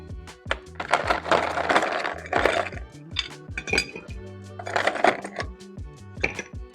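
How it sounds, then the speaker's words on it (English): Ice cubes are dropped into a glass or mixing tin while building a Milk & Honey cocktail with honey syrup and bitters, several loud close clattering clinks in bursts, no speech. "Add ice."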